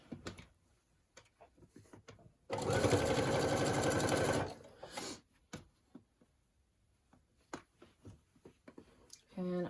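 A sewing machine stitching a dress seam runs in one steady, loud, rapid mechanical whir for about two seconds, framed by quieter handling taps and clicks of fabric being moved before and after.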